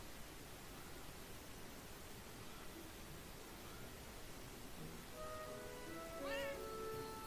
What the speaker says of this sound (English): kitty meow, meow cat.